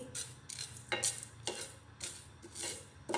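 Lemons for pickle are lightly roasted in a dry pan without oil, giving rhythmic scraping stirring strokes about twice a second, close and moderately quiet.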